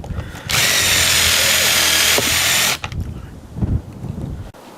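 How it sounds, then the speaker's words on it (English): A power drill countersinking screw holes in a wooden DIY car ramp: a loud, steady high whine for about two seconds that stops abruptly, followed by quieter handling knocks and rustling. "So I've countersunk these, as you can see, they're just slightly bigger than the heads of the screws"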